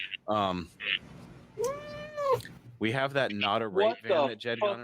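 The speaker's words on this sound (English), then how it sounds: "That was my cat." A house cat meows loudly and close in one drawn-out, rising and falling call during a late-night live talk stream, surrounded by people talking before and after.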